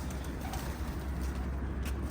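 A homing pigeon coos softly and repeatedly during a pigeon hunt, low throaty calls rolling over a steady outdoor hum.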